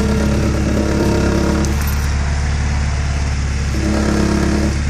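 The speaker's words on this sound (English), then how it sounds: "Does have a slight rumble in the exhaust." A 1986 Porsche 944 engine idles steadily with a low, slight exhaust rumble, a constant near drone holding through the whole stretch without speech.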